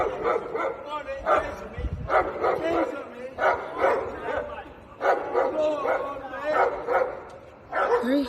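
Dogs barking on a London street, loud and close, in repeated bursts mixed with yips, with people shouting and talking over them.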